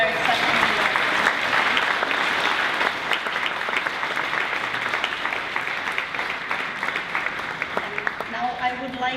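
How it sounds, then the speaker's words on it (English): A festival audience applauds its companies and partners at an evening event marking the hundredth anniversary of Czechoslovakia's founding. Dense, sustained clapping fills the whole clip at an even level and tapers slightly near the end. "Please give a round of applause to these companies and the festival partners who are here tonight."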